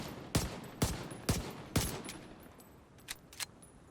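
Weapon fire in a looter shooter video game: four loud, evenly spaced shots, each with a sharp crack and a tail, then two fainter, more distant pops. No one speaks.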